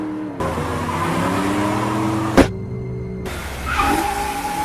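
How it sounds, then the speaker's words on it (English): Black Dodge Challenger speeding as a car sound effect, with a loud, continuous engine drone and a sharp whoosh partway through, followed by a change in engine pitch. "they noticed a black Dodge Challenger speeding behind them as if it was tailing them closely"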